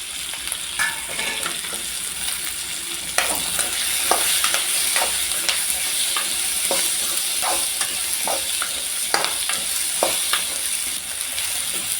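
Coconut, tomato and onion roasting in a pan for sambar: a continuous sizzle with repeated scraping, stirring strokes and clinks, louder after the first few seconds, close up and free of speech.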